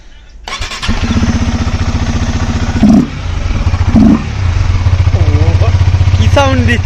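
A KTM Duke 250 motorcycle running without its air filter starts up and settles into a loud, close, rapid idle with two short sharp revs, as voices talk over the later part.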